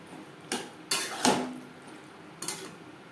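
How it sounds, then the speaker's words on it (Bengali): Okra stirred with spices in a pan over medium flame: a few separate sharp metallic knocks and scrapes of a spoon against the pan, spaced out over a low background, no voices. "মশলার সাথে ভেন্ডি আরও তিন চার মিনিট নাড়াচাড়া করবো"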